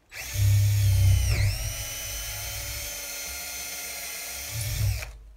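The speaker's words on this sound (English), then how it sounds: "we're going to drill a hole in it" A power drill bores a hole through a wooden broom handle, its steady whine starting loud, settling into a sustained drone as the bit cuts through, then rising briefly again before stopping abruptly.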